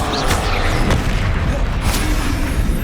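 Blasting spell explosions in the Hogwarts Legacy video game, a dense, loud, continuous barrage of booming blasts and crashing impacts with no voice over it.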